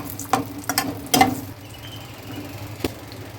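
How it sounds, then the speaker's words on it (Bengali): Low sizzle of five or six split dried red chillies frying in hot oil, broken by a few sharp clinks and scrapes from a utensil against the pan. "তেল দিচ্ছি, এই 5-6খানা শুকনো লঙ্কা একটু চিড়ে চিড়ে দিয়েছি মাঝখান দিয়ে"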